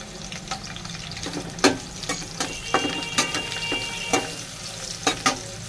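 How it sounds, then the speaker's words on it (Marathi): Onion and green moong dosa masala sauté in a hot pan, a continuous sizzle broken by repeated sharp scrapes and taps of a spatula against the pan, close up and without speech. "फक्त थोडासा हलकासा गुलाबी रंगावर परतून घ्यायचा आहे बघा"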